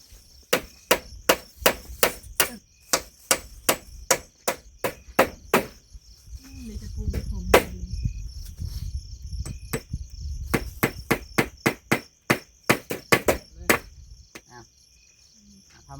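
Sharp metallic hammer blows drive nails in quick rhythmic runs, close and loud, broken by a short stretch of rustling and scraping in the middle.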